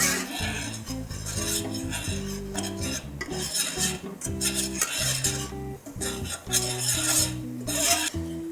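A roux for a feta béchamel is stirred in a pan, a steady scraping and clinking of utensil against metal running throughout, over a constant tonal hum in the background.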